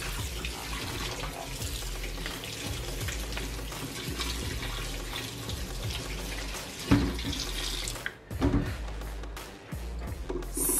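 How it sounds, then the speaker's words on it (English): Cold tap water runs into a colander of drained pasta over a kitchen sink, a steady close splashing hiss that breaks into a few clattering spurts near the end. "Run cold water over it like so."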